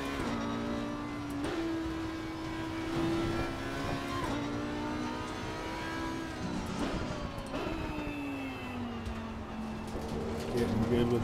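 An Audi race car in the sim racing game Assetto Corsa Competizione holds a steady, loud engine drone that climbs and drops in pitch through several gear changes, running continuously around a track.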